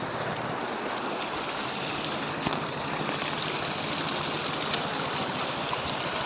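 Water pours steadily from a stream outlet at the Sandhida Mahadev temple site, a continuous broadband rushing and splashing that stays even and fairly close, with no voices over it.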